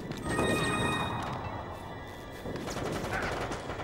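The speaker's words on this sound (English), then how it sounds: "Who the heck is shooting?" Rapid gunfire in the video game Resident Evil: Operation Raccoon City, a dense, steady burst of overlapping shots that holds at a fairly loud level for about four seconds.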